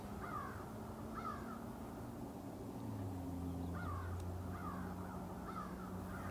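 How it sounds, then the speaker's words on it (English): Crows caw repeatedly in the distance over a steady low rumble of distant highway traffic, their calls coming in short bursts spread across the scene. "We can hear some birds, of course."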